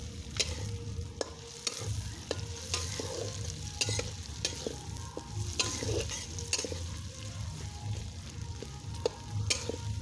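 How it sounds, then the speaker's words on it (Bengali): Chopped onion, garlic, ginger and cumin fry in a pan until soft, giving a constant close sizzle broken by sharp scraping clicks of a spatula stirring at an irregular rhythm. "পেঁয়াজ রসুন আদা কুচি জিরা এগুলা সবগুলো এখন সুন্দর করে ভেজে নেব"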